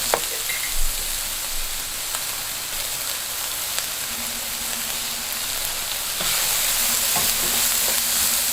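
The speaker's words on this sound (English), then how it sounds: "And into that add the onion, garlic and the chilies. Stir fry a few minutes." Onion, garlic and chilies stir fry in a pan, a continuous close sizzle with occasional spoon clinks and stirring scrapes, the frying growing a little louder toward the end with no talk.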